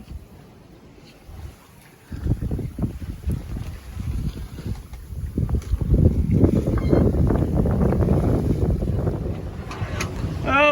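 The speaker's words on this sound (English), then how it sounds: "we're really hard on the breeze, like super close haul, pounding into pretty stiff breeze" A sailboat beating close-hauled into a stiff breeze, hull pounding through chop in a steady rush of wind and water, with heavy, irregular low thumps and buffeting wind noise beginning after a quieter opening couple of seconds.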